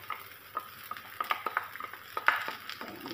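Sitaw fried rice with carrots is stirred and tossed in a pan, a spatula scraping in quick irregular strokes with small clinks over a soft underlying sizzle, close and with no talk.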